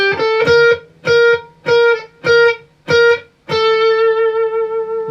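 Overdriven electric guitar plays a riff, six short punchy chords in a steady rhythm and then one long sustained chord that rings out, close and loud with no talk.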